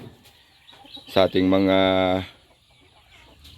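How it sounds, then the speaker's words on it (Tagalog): Free-range hens and young chicks clucking close by, with a loud drawn-out harmonic call for about a second, then faint scattered clucks, and someone briefly speaking. "marami nang pakawala natin na sisiyo ng manok mga idol. Ayan na sila oh"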